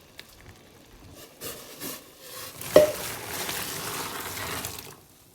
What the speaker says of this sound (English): we are actually going to hit it with a rinse cycle of even more boiling water